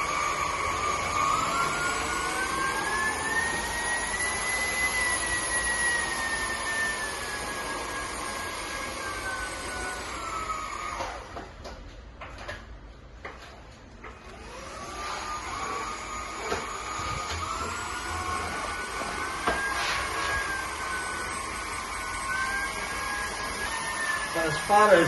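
A Cecotec Conga Rockstar cordless vacuum cleaner running at home, a loud steady whine with shifting tonal pitch that drops away briefly in the middle before resuming.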